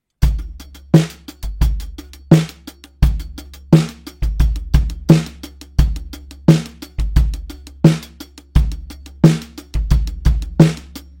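A drum kit plays alone, close and steady: an eighth-note groove with bass drum and snare under a busy 16th-note hand ostinato, repeating in an even loop.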